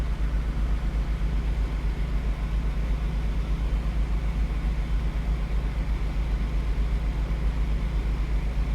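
A Fiat 124 Spider Abarth engine idles through its exhaust, a steady low rumble with a boat-like burble that holds constant and fairly close throughout, no voices on top.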